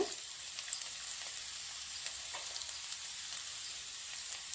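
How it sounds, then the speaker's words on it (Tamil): Garlic and a little ginger frying lightly in oil for a spicy pasta, giving a steady, soft, even sizzle with small crackles, heard close and alone. "கோல்டன் ப்ரௌனாக வர அளவுக்கு லைட்டாக ஃப்ரை பண்ணிடலாம்"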